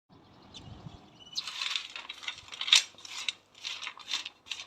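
Dry, hard pieces of dried turmeric root rattle and clatter in bursts, a light woody shaking close by with no voices.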